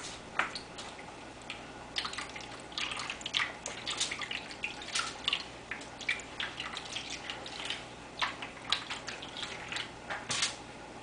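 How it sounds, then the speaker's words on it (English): Juice pours into an ice cube tray, making steady close splashing and dripping with small plastic clicks, and no one speaks. "Pour the juice in."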